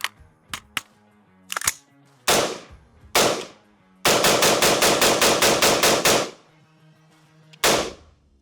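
A Radical Firearms RF-15 rifle fires X-Tac 5.56 rounds, with several single loud cracks followed by a rapid string of about ten shots. A last single shot follows a short pause.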